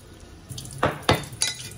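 Cold tap water poured into pancake batter in a home kitchen while it is stirred, arriving as three short, close splashing gushes over a quiet background.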